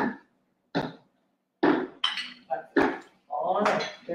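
A spoon knocks and scrapes in a pot of Jamaican beef kidney stew with sliced tomatoes as it is stirred, a few separate close clinks and clatters with quiet pauses in between.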